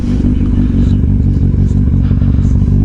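A motorcycle underway, a loud close engine rumble with a low throbbing pulse, steady throughout the short stretch.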